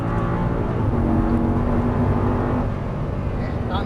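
Audi R8 V10 producing 525 hp, pulling hard at full throttle after an upshift into third on a track: a loud, steady engine roar with a sustained low drone, close and continuous.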